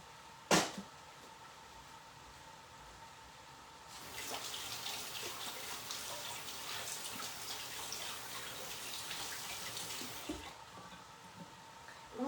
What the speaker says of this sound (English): we'll put these in the trash and wash my hands